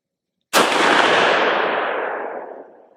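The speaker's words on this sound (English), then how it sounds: "we'll shoot 5 rounds at 25 yards again" A Marlin Dark Series Model Govt rifle fires a single loud, close shot at a 25-yard range, a sharp crack followed by a long, slowly fading echo with no talking.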